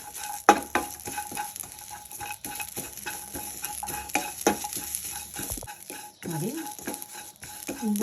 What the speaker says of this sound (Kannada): ಹಸಿ ನುಗ್ಗೆ ಸೊಪ್ಪು ಹಾಕ್ತಾಯಿದ್ದೀನಿ. ಇದನ್ನು ಇದರ ಜೊತೆಲೇ ಹುರ್ಕೊಳ್ಳೋಣ.